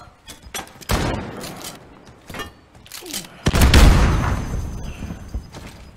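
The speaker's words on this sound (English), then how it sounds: "I'm getting shot at." Gunfire in Call of Duty Modern Warfare 2019, with sharp repeated shots and heavy bursts that build into a loud, booming barrage near the end, while a player talks over it.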